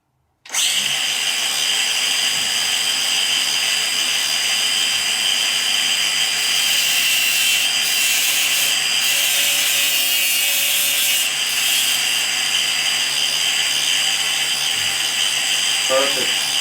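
An arrow shaft for a compound bow is lowered onto a spinning cutting wheel, giving a steady, loud high-pitched grinding whine that holds for over fifteen seconds with slight shifts as the shaft is turned.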